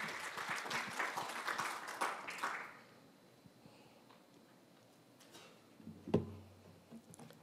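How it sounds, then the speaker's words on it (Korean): Welcoming applause from a conference audience at a broadcasting forum. It is moderately loud at first, then fades out after a few seconds, leaving a quiet room with a few faint knocks and one sharp thud. "여러분 환영의 박수 부탁드립니다."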